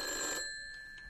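A telephone bell rings once in a short bright burst with sustained tones, then fades into quiet room tone, fairly faint overall.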